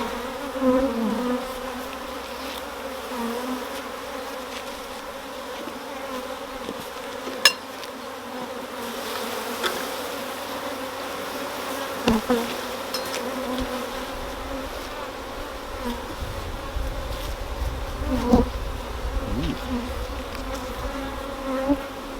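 A honeybee colony in Derbyshire buzzes during a hive inspection, a dense, continuous drone close by with a few sharp knocks and clicks of the frames being handled.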